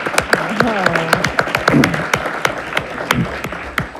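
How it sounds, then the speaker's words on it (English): Applause at a city council meeting, a room of people clapping with sharp, distinct claps close by, with a voice speaking briefly at the start. "So from me to you is a round of applause."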